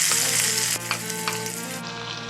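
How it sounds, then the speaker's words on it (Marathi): Chopped onion goes into hot oil with cumin seeds and fries in a loud, steady sizzle, with a spatula scraping and stirring against the pan in a few distinct strokes, up close and without speech. "यात टाकूया आपण चिरलेला कांदा."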